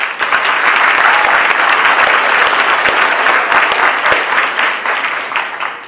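Loud, sustained applause rises from the audience at a 2014 student government vice-presidential debate, a dense crowd clapping that holds steady before easing slightly at the end.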